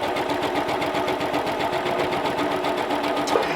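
A home sewing machine stitches a quilt seam at a slowed speed, a continuous even chatter of needle strokes running close and steady without pause.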